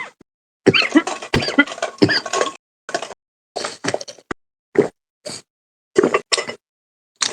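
Someone coughs in a series of sharp, close bursts, some clustered and some isolated, separated by moments of silence.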